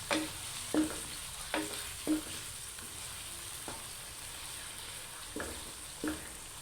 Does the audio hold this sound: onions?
yes